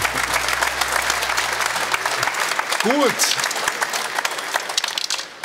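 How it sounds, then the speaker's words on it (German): A studio audience at a German football talk show bursts into sustained, loud applause. Someone briefly speaks over the clapping. "Ich wollte jetzt noch mal einen schönen Beifall haben."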